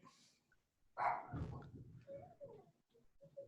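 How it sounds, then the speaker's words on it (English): Household dogs barking as someone arrives home: a loud burst of barks followed by shorter yips and whimpers, fairly close, over a quiet room. "Look like my son got home and the dogs are gonna bark."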